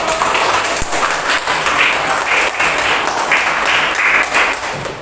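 A classroom of students applauds groups who gave correct answers, steady loud clapping from many hands that carries on for several seconds and fills the room.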